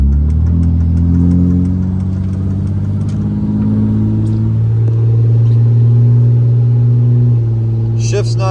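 Diesel engine of a 3rd gen Cummins pickup truck on 26-inch wheels and 35-inch tires, running with a loud, deep, steady idle rumble and a slight rise in revs, close up; people talk over it.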